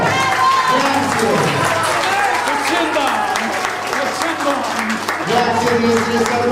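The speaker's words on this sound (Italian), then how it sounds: "lo salutiamo con un caloroso applauso" A crowd gives warm applause for the maestro at a Neapolitan song festival in San Felice a Cancello, steady clapping running throughout beneath loud music and voices.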